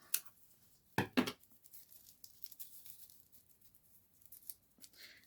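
Scissors snip through excess gift ribbon while trimming a present's bow: two or three quick, close cuts early on, followed by faint rustling and crinkling of ribbon and wrapping.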